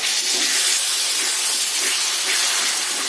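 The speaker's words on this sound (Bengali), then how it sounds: "বাটি ধুয়ে একটুখানি জল দিয়ে দেবো মশলাটার মধ্যে।" Water splashed into a hot, oil-releasing spice paste in a pan while cooking a jackfruit and rohu fish curry, giving a loud, continuous broadband hiss and sizzle that holds steady for about three seconds with no talking.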